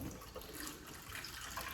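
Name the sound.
rinsing a measuring cup with tap water in the sink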